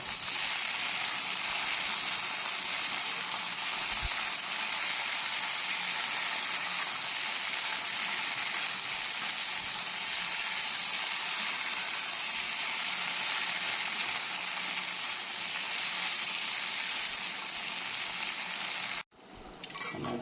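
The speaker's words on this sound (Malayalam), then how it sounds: "നമുക്കിത് ഇതിലേക്കിടാം. നന്നായിട്ടൊന്ന് ഇളക്കാം." Potato stir-fry being stirred in a hot pan: a constant, fairly loud sizzling hiss with no pauses, cut off abruptly just before the end.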